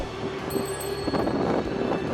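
A red train arriving at a station in Japan, a steady rumble of railcars with faint wheel squeal and clatter, close and continuous, with no talking.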